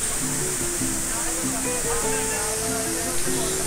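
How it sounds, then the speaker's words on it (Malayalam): Cheeyappara waterfall near Munnar, water falling from the forest, gives a steady, loud broadband rush that fills the whole stretch, with a voice talking over it. "ആഘോഷമായി കാട്ടിൽ നിന്ന് താഴേക്ക് പതിക്കുന്ന ചീയപ്പാറ വെള്ളച്ചാട്ടം"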